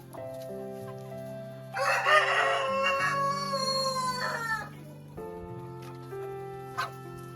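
A rooster crows loudly and close in a poultry yard of laying hens, with hens clucking softly around it before and after the crow in an otherwise quiet rural setting.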